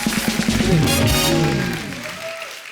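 A television show audience applauds a singer with a loud swell of clapping and crowd noise. Music and voices overlap it, and the sound tapers off toward the end.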